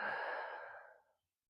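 A single long exhale during a stretching exercise for hip and lower back pain, a soft airy sigh that is loud at first and fades out after about a second, with no talk.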